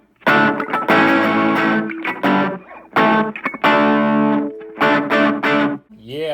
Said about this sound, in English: I kind of like the delay at 0 to give me a little bit of that reverb.